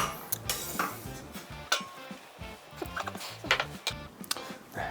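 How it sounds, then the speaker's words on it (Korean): Ramen noodles lifted out of a pot of water with utensils, giving a run of close metallic clinks and scrapes against the pot, irregular and fairly quiet, with no one talking. "면을 먼저 건져내겠습니다."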